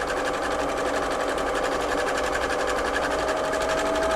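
A Singer 6104 sewing machine runs steadily, its needle hammering in a fast, continuous rhythm with a mechanical hum throughout, loud and close with no voices.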